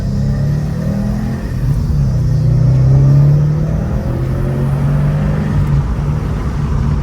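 A 2019 Subaru WRX STI fitted with an Invidia exhaust and Cobb tune gives a steady, loud low rumble that swells briefly around the middle, with no talk over it.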